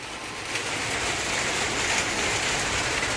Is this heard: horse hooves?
no